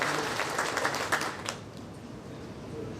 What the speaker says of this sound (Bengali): আমি দর্শক সারি থেকে আরো একটি জোরে করতালি প্রত্যাশা করছি